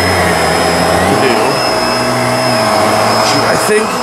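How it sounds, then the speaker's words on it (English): A Bissell PowerLifter Swivel vacuum cleaner running steadily on a mattress, with a loud, continuous motor whine and airflow roar close by and a few small bumps as the head moves across the fabric. "I'm gonna vacuum the mattress like this"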